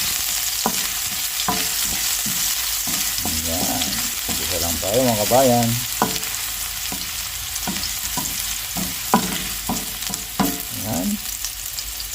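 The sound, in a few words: ginger frying in hot oil in a pan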